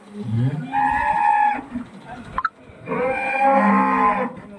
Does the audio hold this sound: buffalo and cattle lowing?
yes